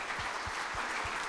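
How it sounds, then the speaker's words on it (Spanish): Audience applause sending off a guest named Hugo at a talk, a steady wash of many hands clapping at moderate volume, alone and continuous through the short moment. "vamos a despedirlo a Hugo con un fuerte aplauso"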